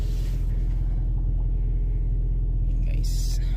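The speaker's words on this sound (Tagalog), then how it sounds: "Painitin natin ang konti ang sasakyan guys" A car engine idles steadily while warming up on a cool summer morning in Canada, a constant low rumble filling the background, with faint movement and a brief higher hiss near the end.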